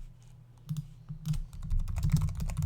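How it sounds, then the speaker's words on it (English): Rapid keystrokes on a computer keyboard, a quick run of light clicks that starts sparse and grows denser, close and moderately loud with a low hum underneath. "I'm going to type in teeth"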